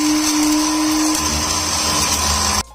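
Electric spice grinder whirring at high speed as it grinds dried sugar into fine powder, a loud steady motor whine whose pitch shifts partway through, then cuts off abruptly near the end.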